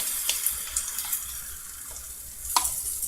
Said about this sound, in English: So our bologna is pretty much toasted. I don't know if you can see it, but it looks great. And then you just pour in